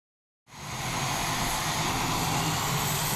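Boeing T-X advanced trainer jet starting its takeoff roll, a loud, steady roar that swells in after a short silence and holds a broad rushing engine noise throughout.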